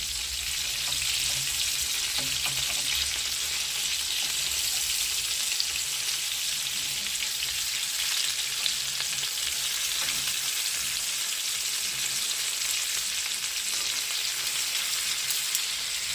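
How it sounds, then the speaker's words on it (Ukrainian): Buckwheat patties (hrechanyky) fry in a pan, a steady, even sizzle heard up close and alone for the whole stretch. "Знову накриваю кришки, обсмажуємо з другої сторони."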